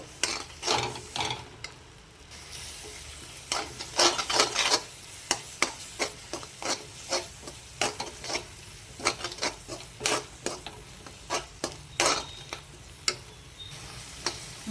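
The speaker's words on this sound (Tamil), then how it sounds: "இதுவும் அப்படியே வந்து நம்ம மாம்பழத்தோட நெய்யோடு நல்லா மிக்ஸ் பண்ணி நல்லா வணக்கி விட்டுக்கலாம்" Spoon stirring mango, grated coconut and ghee in a pan, a run of irregular scraping clicks and taps over a faint sizzle.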